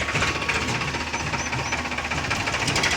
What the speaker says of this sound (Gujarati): આજે આપણું ટ્રેક્ટર અને થ્રેસર ચાલ્યા છે તુવેર કાઢવા